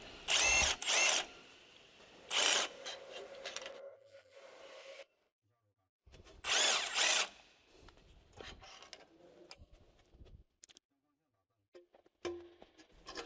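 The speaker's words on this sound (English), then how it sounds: "Using a 13mm 12-point socket with a flexible joint and an electric impact wrench, loosen the bearing mounting bolt." An electric impact wrench with a 13mm 12-point socket on a flexible joint loosens the bearing mounting bolt on a 2013 Jeep Wrangler JK. It fires in several sharp, loud bursts separated by quieter stretches of shop clatter.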